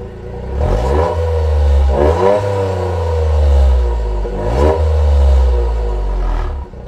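A Toyota GR Yaris engine revs and pulls hard while driving, rising and falling in loud surges with a harmonic whine and rasp, close and steady with no talk.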